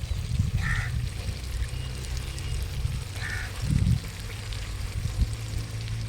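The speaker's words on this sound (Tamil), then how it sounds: "இப்போ வந்து நம்ம புளி சேர்த்துப்போம்" Tamarind water pours into fried onion and tomato in a pan for a fish kulambu, a steady close pour and sizzle with low rumbling bursts and a couple of faint bird-like chirps in the background.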